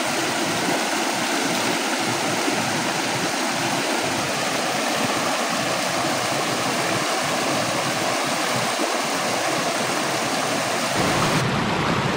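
Clean stream water tumbling through a rocky creek at Los Chorros in the Huasteca, a continuous close rushing hiss that holds steady for several seconds, with no talking.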